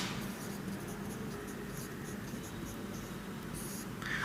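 Marker or chalk scratches across a board as a maths problem on sequences and series is worked out, a near, continuous scribbling with short pauses and no talking over it.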